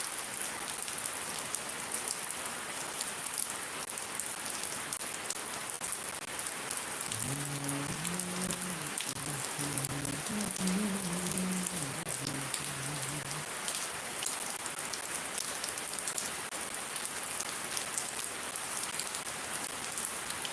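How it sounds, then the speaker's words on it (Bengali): Steady heavy rain falls in Shariatpur, a constant close hiss that runs the whole time, with a person speaking briefly partway through. "অনেক ভাল লাগতেছে বৃষ্টি হচ্ছে আমার কাছে অনেক ভাল লাগতেছে বৃষ্টিটা"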